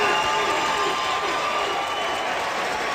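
A debate audience roars with sustained crowd cheering, shouts and applause filling the whole span at steady, loud volume.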